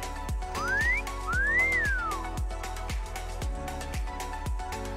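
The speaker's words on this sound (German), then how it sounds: "Wollen wir mal pfeifen?" Melodic whistling in a video game, rising and falling tones whistled over a steady thumping beat of game music, clear and up front with no speech.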